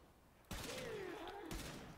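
Two heavy shots from the Kuva Chakkhurr rifle in the video game Warframe, spaced about a second apart, each a loud booming blast with a ringing, whining tail between them.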